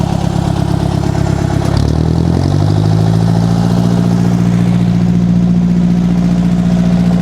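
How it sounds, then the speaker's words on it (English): A tractor engine, run without an air cleaner, chugs at a loud close idle, then its pitch steps up as the revs climb and hold at a steady higher drone. "rev up the tractor."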